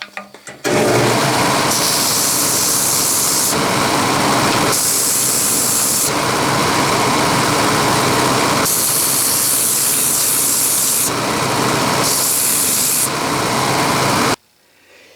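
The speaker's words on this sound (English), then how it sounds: "I'm at the Rockwell Delta 6-inch band sander with the table set at 3 degrees." A Rockwell Delta 6-inch band sander, table set at 3 degrees, sands a shellacked wooden foundry pattern fillet, giving a loud continuous hissing roar that rises and dips as the piece is pressed, then stops abruptly.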